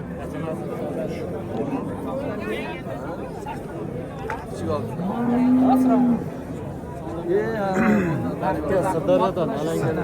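Cows give two drawn-out, low moos over a busy hubbub of voices and chatter at the Piskent cattle market in Uzbekistan, close by and clear above the crowd.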